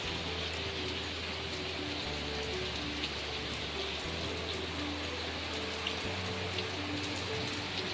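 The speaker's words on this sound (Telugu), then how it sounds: "వర్షం చూసారా ఎలా పడుతుందో? ఆహా, ఏం పడుతుంది వర్షం" Steady rain patters continuously on a surface, a dense even hiss with scattered drops, alone without voices.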